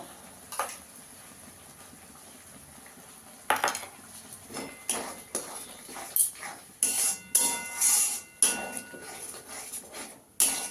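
A spoon scrapes and knocks in a pan as cabbage curry with cashew and poppy seed paste is stirred, a series of close metallic clinks and scrapes that grow busier toward the end.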